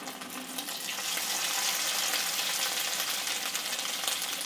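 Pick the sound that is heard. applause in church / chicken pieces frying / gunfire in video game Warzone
chicken pieces frying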